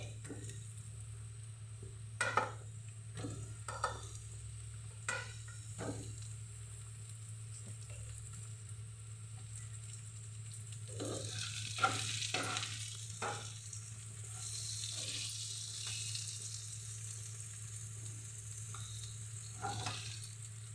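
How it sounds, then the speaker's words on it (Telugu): Bottle gourd pieces sizzle with onions in a hot pan, a steady low frying hiss broken by a few sharp scrapes of stirring, moderately faint and close, with no talking. "ఇప్పుడు ఇందులో ఆనపకాయ ముక్కలు వేసేసుకుందామండి"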